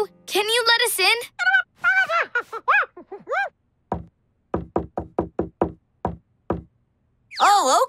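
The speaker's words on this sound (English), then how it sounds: "We have to match his secret knock." Knocking on a door in a children's cartoon: a series of evenly spaced sharp knocks, about eight in a row, framed by animated character voices and vocal sounds before and after.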